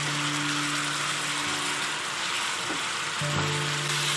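Chicken liver fries in a pan with masala, a steady close sizzle under a low background hum.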